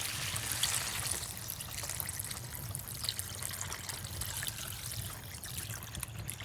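Water trickles and pours into a cooking pot set on a clay stove, a soft, continuous, low-level splashing with a faint murmur beneath it.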